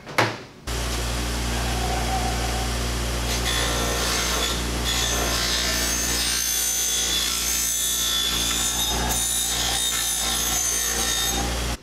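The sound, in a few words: porous stone buffing wheel smoothing an edge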